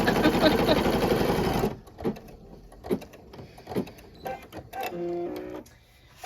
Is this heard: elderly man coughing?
no